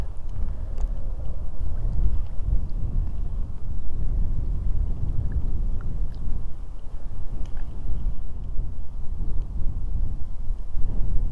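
Wind by a trout stream buffets the microphone as a steady loud low rumble with gusty surges throughout, no voices heard.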